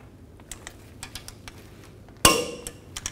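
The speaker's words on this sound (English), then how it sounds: "now I'm going to torque these bolts to" Torque wrench tightening brake caliper bolts on a 2000-06 Chevy Tahoe, several light clicks and ticks and then one sharp metallic clack with a brief ring, heard close up with no talking.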